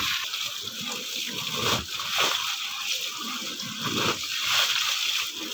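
Water sloshing and splashing continuously as a kantha quilt is hand-washed in a village, a dense, close watery churn with brief louder surges.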